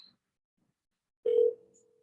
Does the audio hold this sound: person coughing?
no